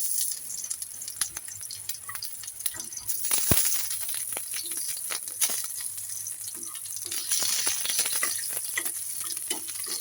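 Garlic frying in a pan for a Bangladeshi pointed gourd mash dish, a steady hiss with soft clatter and stirring, fairly close and unbroken, with one brief sharper knock partway through.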